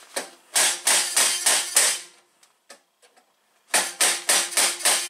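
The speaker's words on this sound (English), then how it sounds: "we're just going to break this free with a screwdriver" A screwdriver knocks the knockouts free on a metal electrical box, heard as two close bursts of sharp, rapid metallic taps with a short quiet gap and a few isolated clicks between them.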